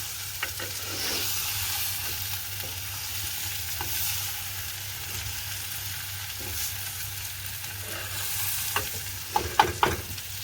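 Egg devil being stirred in a frying pan: a continuous close sizzle with scraping stirs throughout, ending in a few louder clattering utensil strokes near the end.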